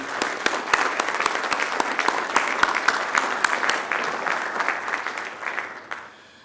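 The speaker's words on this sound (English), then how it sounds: "a big round of applause for our inductees that were honored this morning" Applause from an audience at a Drexel ROTC Veterans Day tribute, honoring inductees: dense, steady clapping that holds fairly loud for several seconds, then thins and fades out near the end.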